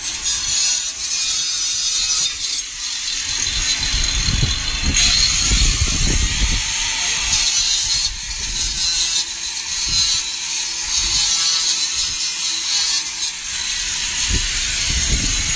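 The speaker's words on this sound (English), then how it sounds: "Over here, we've got the wire mesh getting cut" Wire mesh is cut with a jig on a straw bale construction site, producing repeated rasping, scraping strokes over a steady hissing background, close and fairly loud throughout.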